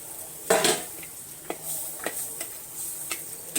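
Mutton going into a clay pot for a village-style curry, with a few close clinks and scrapes of utensil on the pot at an uneven pace, fairly quiet.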